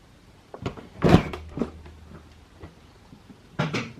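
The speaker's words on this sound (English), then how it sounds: "I will just open a door which will wake up the car" An electric car's door clicks open with a soft thud and a few light rattles, followed by quiet handling noises and another short clunk.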